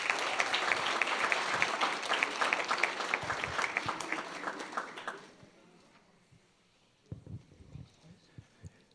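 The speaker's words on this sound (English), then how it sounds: "one more big round of applause" A crowd gives a loud round of applause for state champion girls, clapping densely for about five seconds before fading out, followed by a few scattered taps and knocks.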